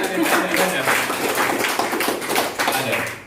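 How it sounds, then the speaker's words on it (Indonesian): A few people clap by hand at a small indoor gathering, quick light slaps in a loose run under a lively roomy background with voices nearby. "Wah, tepuk tangan ada."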